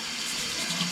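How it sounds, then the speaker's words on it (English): Water from a tap runs steadily into a sink while lentils are rinsed, a close, even hiss and splash lasting about a second. "I'm just going to wash the lentils under a tap to give those a rinse."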